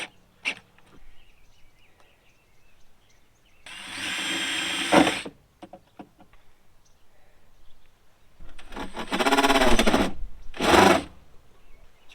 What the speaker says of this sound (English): I'm going to take this charge controller. I'm going to get it installed right up there. A couple of screws on each side.